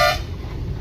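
A truck's horn gives a short, loud blast on a mountain ghat road on a Manipur national highway, then cuts off into the low rumble of the running engine.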